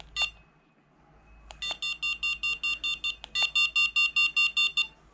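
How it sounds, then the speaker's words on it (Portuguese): An Aircotec Alib paragliding variometer emits rapid, evenly spaced electronic beeps in a steady pulsing series at moderate volume, preceded by a few isolated tones, with faint background noise. "Reparou que alterou o volume do bip contínuo?"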